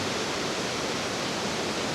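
A waterfall pours down into the river at Wulai, Taiwan, giving a steady, full rushing roar with no breaks.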